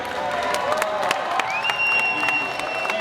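Audience applause on Disney's Great Movie Ride western scene, a steady wash of clapping with scattered louder claps, joined midway by a rising tonal effect, continuous throughout.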